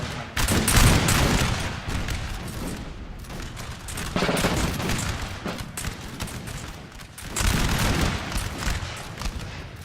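Musket volleys crackle across a Napoleon Total War battlefield, three heavy bursts of massed gunfire rolling loud and dense with a ragged tail of scattered shots between them, with no speech over the firing.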